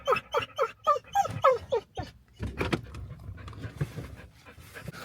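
An excited dog on a walk pants in rapid, close rhythmic bursts, then whimpers and whines softly over light street noise.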